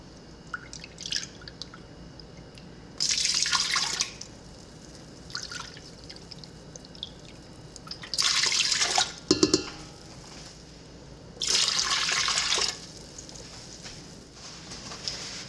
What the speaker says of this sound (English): to this, I'm gonna add 2 cups of vinegar and 1 cup of water.